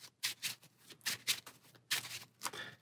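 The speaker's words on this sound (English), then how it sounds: "So we'll take our basic encounter cards, give them a shuffle." A deck of basic encounter cards for a solo tabletop game is shuffled by hand in a run of rhythmic riffling bursts with short gaps between them, close and fairly soft, with no talking.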